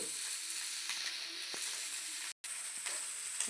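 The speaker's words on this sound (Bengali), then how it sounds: "এবার এটা একটু নেড়ে চেড়ে রাখবো।" Chire pulao of flattened rice is stirred in a pan, a soft steady sizzle and hiss with occasional light scrapes, fairly quiet and close, broken by a brief dropout, with no talking.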